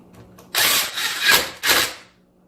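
A power tool tightens a C7 nut on a KICK Venture 55-inch foosball table player rod, sounding as three close, loud whirring bursts separated by brief pauses.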